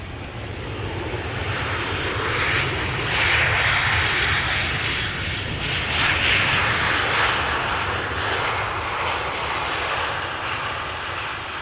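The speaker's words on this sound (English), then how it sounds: "Transavia 737 arriving from Alicante" A Transavia Boeing 737 airliner arrives at Amsterdam Schiphol with a loud, steady engine roar that swells and fades across the whole stretch, with no talk.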